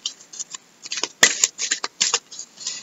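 Tarot cards being shuffled by hand, close and crisp, in a series of short riffling bursts with brief gaps between them and a couple of sharper snaps midway.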